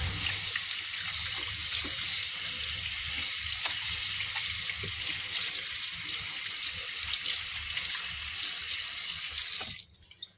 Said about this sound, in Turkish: Elimi yıkayacağım şimdi